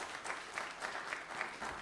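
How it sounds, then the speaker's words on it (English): A church meeting audience gives a round of applause, a fairly quiet but continuous patter of many hands clapping at a moderate distance, with no voices over it. "Let's give her a round of applause."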